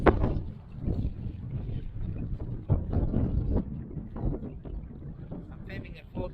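Wind buffets the microphone outdoors in Vancouver on a cool day of about 6 degrees, rumbling steadily and close with gusty surges throughout.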